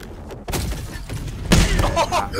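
Gunfire in the Helldivers 2 video game: two loud, close bursts of shooting, the first short and the second longer with rumbling impacts, over a low background of battle noise.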